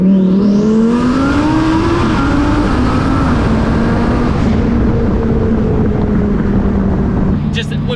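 A 2019 Lamborghini Performante tuned to 1,350 wheel horsepower accelerates hard, its loud engine rising steadily in pitch and roaring continuously before easing near the end.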